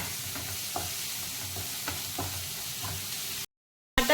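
Chili powder and salt sizzle in hot oil while a spoon stirs in a steady, close rhythm, with soft scraping knocks against the pan before a brief cutoff near the end.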